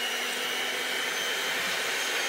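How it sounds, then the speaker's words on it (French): Electric mixer on a very slow setting beating liquid magnesia to break up lumps, a steady broadband whir held evenly throughout, close and alone with no speech. "Et là, grâce au batteur, l'avantage, c'est vraiment de casser tous les grumeaux."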